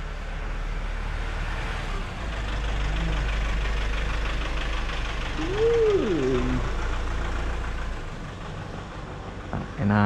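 A 2019 Yamaha R1 superbike at delivery, its engine idling with a low, steady rumble in the background, swelling slightly midway alongside faint ambient noise.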